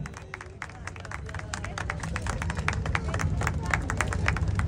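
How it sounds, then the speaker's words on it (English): An event audience applauds steadily with dense, rapid clapping over a low crowd murmur, growing slightly louder throughout. "Wow, big round of applause."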